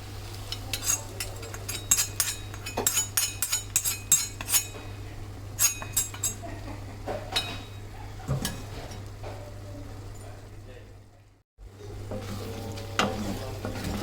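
Sautéed snake gourd, cooked in cold-pressed sesame oil, is tipped into a tempering pan for kootu, bringing scattered metallic clinks and scrapes of a ladle over a soft frying sizzle and a low steady hum.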